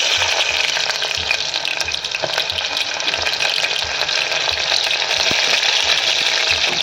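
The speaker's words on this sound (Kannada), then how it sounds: "ಮೊದಲನೇದಾಗಿ ಈರುಳ್ಳಿ ಹಾಕೋಣ." Onions frying in hot oil for a tomato pulao crackle and hiss steadily, close and fairly loud, with occasional stirring scrapes and no talking.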